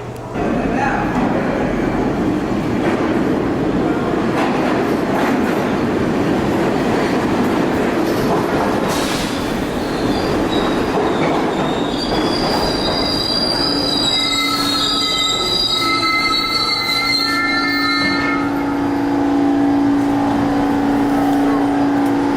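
A New York subway or commuter train pulls in, wheels squealing loudly in long piercing tones over rumbling, clattering carriages, close and continuous throughout with a steady roar underneath.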